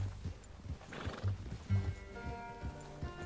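A horse in the video game Red Dead Redemption 2 clip-clops with steady hoofbeats throughout, then gives a drawn-out, wavering neigh over the last half.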